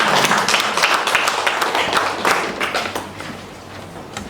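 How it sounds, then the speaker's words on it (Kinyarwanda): Audience applauding guests at a public event in Kigali: dense, steady clapping from many hands, loud and close, easing slightly toward the end. "Ariko abo bantu mwagiye kubaha amashyi ko bayakwiye."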